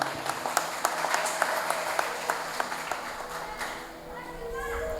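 Audience at a Vishva Hindu Parishad and Bajrang Dal Shashtipurti ceremony in Ranpur, Botad, claps for volunteers: steady, dense applause at moderate volume throughout, fading slightly near the end.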